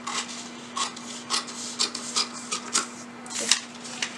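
Scissors cutting fabric for the front part of a tulip sleeve, heard as a series of short, crisp snipping and rubbing strokes repeated irregularly at close range, with a steady low hum underneath and no talking.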